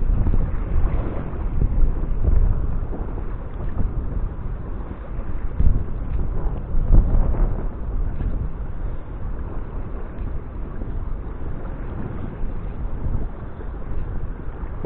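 Steady wind buffeting the microphone on the shore at Tuzla, Turkey, while fishing, a continuous low rumble with gusts rising and falling, no voices.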